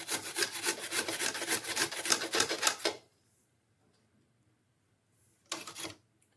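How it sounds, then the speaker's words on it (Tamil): Indian gooseberries (amla) rubbed briskly on a vegetable grater for about three seconds in a fast, even rasping rhythm, close and loud. Then near silence, and a short second burst of grating. "எல்லா நெல்லிக்காயுமே இந்த மாதிரி காய் சீவரில் சீவி எடுத்துக்கலாங்க"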